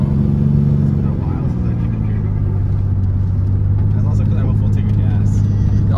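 A car with a swapped 2JZ engine, a Jaguar, drones loudly and steadily on a canyon road with a low rumbling hum as it downshifts, while people talk over it.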